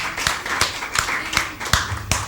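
A school quiz contest audience claps in a slow, evenly spaced rhythm, about six sharp claps over a couple of seconds, fairly close and without talk.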